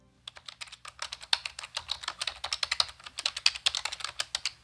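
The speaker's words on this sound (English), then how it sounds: "Typing on a keyboard." Rapid, irregular clatter of keys being typed on a computer keyboard, close and fairly loud, with steady clicks continuing throughout and no talking.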